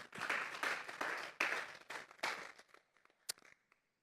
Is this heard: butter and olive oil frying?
no